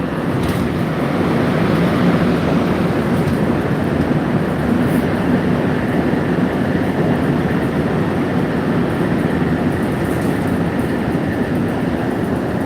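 Riding inside a Montreal metro Orange Line train brings a loud, continuous rumbling roar with a steady rolling hum and faint rattles throughout, and no voices.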